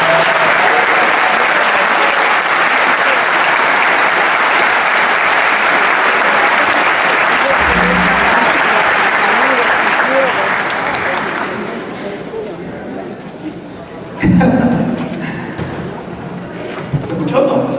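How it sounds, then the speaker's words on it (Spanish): A festival audience gathered for a panel with Mario Vargas Llosa gives sustained, loud applause that fills the room for about eleven seconds, then fades into murmurs and a brief thump. "Un aplauso."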